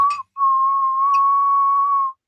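A person whistles a brief chirp and then one long, steady, loud tone held for nearly two seconds, close and clear with no other sound around it.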